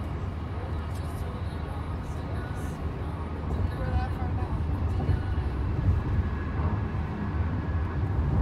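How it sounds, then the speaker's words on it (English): A jet airliner climbs away after takeoff near Chicago O'Hare Airport, heard from a passing car as a steady broadband roar that swells louder midway, blended with road and engine noise. "Another one taking off."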